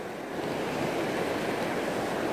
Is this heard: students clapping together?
no